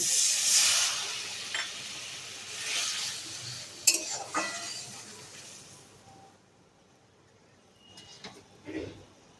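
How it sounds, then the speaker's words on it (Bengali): Mustard paste and water go into a cooking pan, bringing a burst of sizzling and hissing, clinks and scrapes of a utensil against the pan, then fading to a quieter simmer with occasional stirring knocks. "এবার এর মধ্যে দিয়ে দেব সর্ষে বাটা, দিচ্ছি একটু জল"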